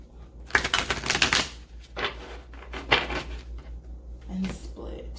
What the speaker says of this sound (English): I already blessed this deck. I just need to shuffle.